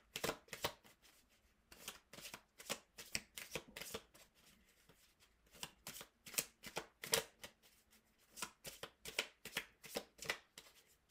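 Tarot cards are shuffled by hand in repeated quick riffling bursts, crisp papery flutters and taps coming in uneven clusters, close and fairly quiet, with no talking.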